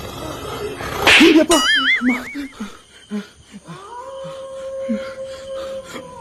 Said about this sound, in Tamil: நாய் சவுண்ட் கேக்குது.